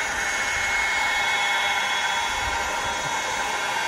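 A heat gun blows hot air over car plastic trim, a steady close rushing hiss that holds at constant loudness throughout.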